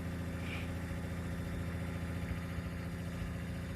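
A BMW E28 engine, back in running order after a tune-up following ten years parked, runs with a steady low throb and mild throttle blips under a constant mechanical hum, close and without talk.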